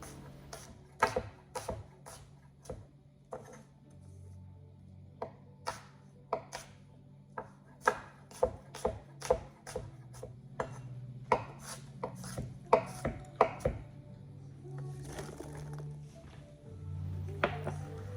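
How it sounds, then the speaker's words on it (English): Apples are chopped with a knife on a cutting board for apple cinnamon scones, giving a run of sharp, irregular taps and thunks over a soft, steady kitchen hum, with no talking. "I'm going to chop some apples and add in that as well"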